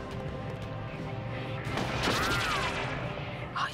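Gunfire in a video game, a burst of rapid crackling shots rising in the middle of the stretch over a dense game soundtrack, with a voice talking faintly underneath.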